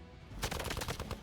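Gunfire in the turn-based video game Marvel's Midnight Suns: a burst of several rapid, loud shots in quick succession, close and prominent with no talk over them.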